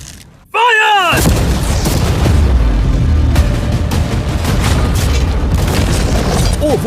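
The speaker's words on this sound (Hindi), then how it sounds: "ठीक है शॉन, अब हम तुम्हारी नई यॉट पर कैनन्स को शूट करने वाले हैं।" Cannons fire cannonballs at a new yacht, with a sudden loud boom followed by sustained crashing and rumbling. Excited voices are heard under the noise.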